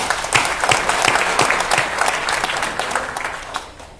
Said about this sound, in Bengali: তাদের জন্য আমরা একটা হাততালি দিই